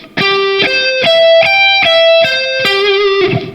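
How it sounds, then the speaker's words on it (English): Distorted electric guitar plays a slow broken chord, single notes struck one after another in steady succession, each ringing on into the next. "An arpeggio is just a broken up chord like this."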